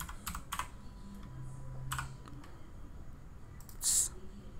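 Typing on a computer keyboard, a handful of close, crisp key clicks in short irregular clusters over a quiet background, with a louder keystroke near the end.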